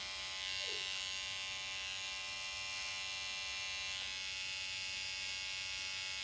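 An electric trimmer buzzes continuously and close while shaving hair along a man's neckline, a steady droning hum with slight changes as it moves over the skin.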